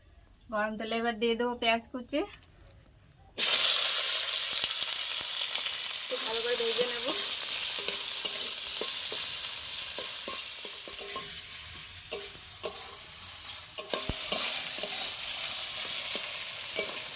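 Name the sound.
potato filling frying in oil in wok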